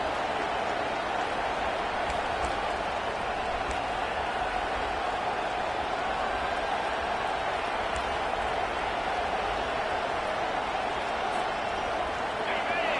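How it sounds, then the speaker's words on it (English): Stadium crowd at a football game roaring loudly and continuously, a dense, sustained wash of cheering with no breaks, under faint commentary. "This crowd bringing an ear-splitting welcome to their visitors."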